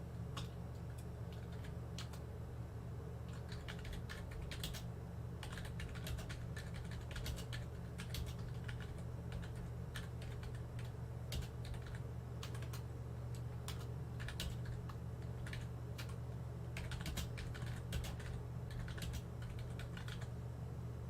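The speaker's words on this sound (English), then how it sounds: "probably hear me typing" Keys on a computer keyboard clatter in irregular bursts of quick taps throughout, close and steady over a constant low electrical hum during a World of Warships gaming stream, with no talking.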